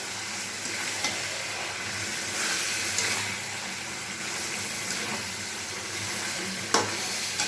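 A fried hilsa fish head is stirred with taro greens in a sizzling pan, with a steady frying hiss and occasional scraping clicks of the spoon.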